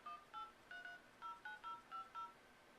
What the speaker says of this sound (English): if I were to make a phone call here, we'll just call my voicemail